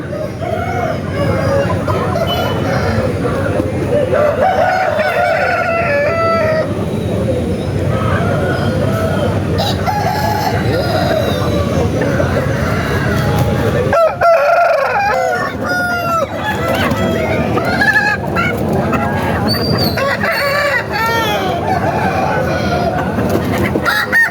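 Roosters crow repeatedly among clucking hens at a busy Saturday country chicken market, the calls loud and overlapping near and far throughout, with occasional background talk.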